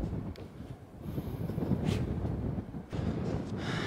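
Wind gusts buffet the microphone outdoors during the polar night on Svalbard, a steady roar that swells in surges and lulls over a few seconds, with no voices.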